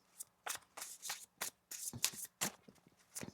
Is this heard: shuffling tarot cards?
yes